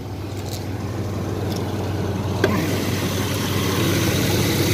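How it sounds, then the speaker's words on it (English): A steady low idle from a Chevrolet Blazer truck engine runs throughout, close and even, with a faint brief click partway through and no talking. "Motor sounds good."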